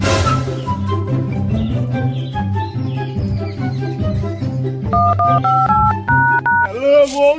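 A telephone being dialed to call someone gives a quick run of short keypad tone beeps, heard over steady background music.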